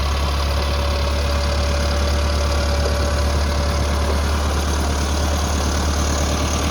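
A Massey Ferguson MF 385 tractor engine runs steadily while sowing in a field, a loud, close, continuous diesel drone with no breaks and no talking.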